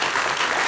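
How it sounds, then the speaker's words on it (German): A studio audience at a German TV entertainment show claps, a dense, even burst of applause, loud and sustained throughout. "wenn Sie klatschen wollen, lassen Sie sich durch mich nicht aufhalten"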